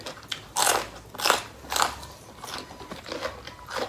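Crisp crunching bites into fresh raw vegetables such as sweet pepper, served with a spicy Thai squid salad, several loud separate crunches spaced about half a second apart, heard close up with no talking.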